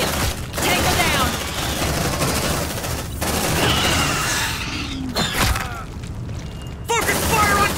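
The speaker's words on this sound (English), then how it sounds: "Focus fire on target!" Video game gunfire in Aliens Dark Descent, dense bursts of automatic fire and impacts in a chaotic firefight, loud and sustained with brief gaps, mixed with shouted voices.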